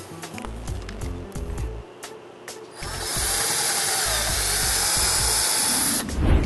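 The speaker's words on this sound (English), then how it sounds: "Now that you're done drilling all the holes," A power drill bores holes through a motorcycle tour pack lid while a luggage rack is installed, with short bursts of drilling and pauses, then a longer sustained whir up close, ending in a final louder grind.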